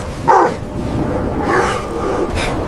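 Dogs bark in short, loud bursts while attacking a man, three yelping barks spread over a steady noisy background with no voices.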